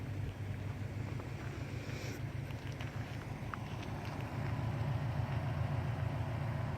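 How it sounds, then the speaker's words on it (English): Fire trucks running their engines and pumps hard at the Blue Bird fire in Peshastin, heard from a distance as a steady low rumbling drone with wind, continuous throughout. "You can hear the fire trucks working extra hard"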